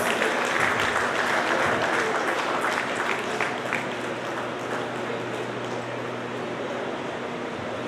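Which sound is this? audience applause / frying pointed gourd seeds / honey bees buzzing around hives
audience applause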